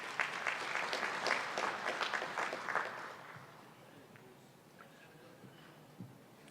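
A conference audience claps for a keynote speaker: loud, dense applause for about three seconds, then it quickly thins out to a few scattered claps and quiet room noise.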